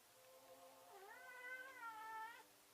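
A cat meows indoors in one drawn-out, wavering call lasting about a second and a half, faint and alone against a quiet background.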